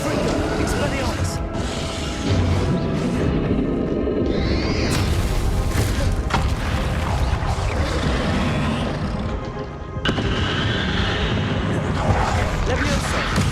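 Spell blasts and booming impacts in the wizarding game Hogwarts Legacy, loud crashing bursts and roaring effects repeating throughout, with a voice talking over them.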